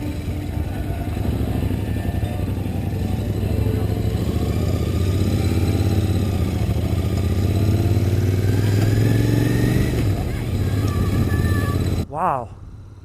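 A 2020 Royal Enfield Continental GT 650 motorcycle on the move, its twin-cylinder engine droning steadily with rising and falling revs under rushing wind, then cutting off abruptly near the end.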